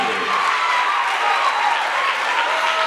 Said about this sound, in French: accueillir avec une salve d'applaudissements